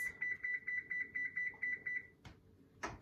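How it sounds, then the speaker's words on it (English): Kitchen timer being set for cookies baking in a 375-degree oven: a rapid series of bright, close electronic beeps in quick rhythm for about two seconds, then a couple of soft clicks and a short rustle. "I'm gonna go ahead and set my timer for 12 minutes."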